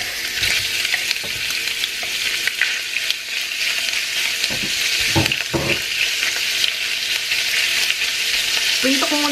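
Pork frying in a pan as the start of pancit, a steady loud sizzle with occasional stirring and scraping, heard close up and continuing throughout with no talking.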